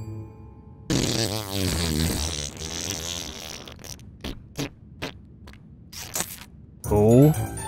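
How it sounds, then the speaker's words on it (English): A loud, wet, sputtering fart plays in the horror video game Little Nightmares. It comes as a drawn-out blast, then a run of short, sharp bursts separated by silence, ending in a rising squelch. "That was the wettest fart I've ever heard"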